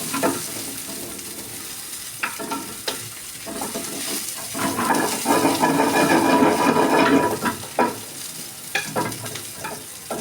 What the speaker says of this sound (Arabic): بصل عشان يتكرمل معايا، انا عايزه يتكرمل